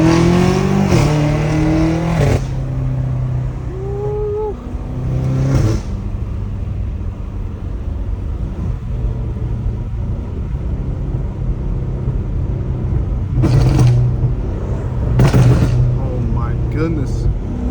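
Straight-piped BMW M5 Competition on the move, its exhaust rumbling and revving with sharp pops and crackles in bursts, loud and close, while people talk over it inside the car.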